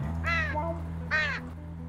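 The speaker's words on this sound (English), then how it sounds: "And now you have a crow?" A crow gives two harsh, separate caws, each about a quarter second long, fairly close and loud above a constant low hum.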